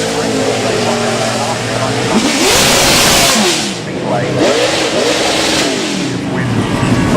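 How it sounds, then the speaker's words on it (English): A Chevrolet Monte Carlo NASCAR race car at the Goodwood Festival of Speed revs and accelerates in loud, rising engine sweeps that swell midway, briefly dip, then climb again, with crowd and announcer noise around it. "a more modern shape is the Chevrolet Monte Carlo here, that runs in our NASCAR category for the weekend"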